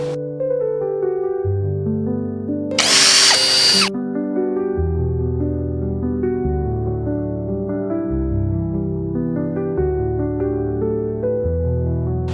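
A power drill drives a screw during ZIP blind assembly, one short whirring burst of about a second in the middle, with steady piano-like music playing throughout.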